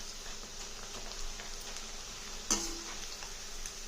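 Leafy greens pakoda frying in hot oil gives a quiet, even sizzle with a single sharp tick partway through; no one speaks.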